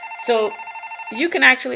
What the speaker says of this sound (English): excuse my phone for ringing.